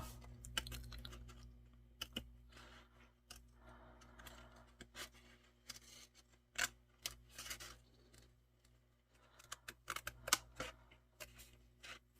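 Scissors snip through paper while cutting out animal paper dolls for an art journal, giving a string of close, quiet, irregular clicks and rustles with a faint steady hum behind them.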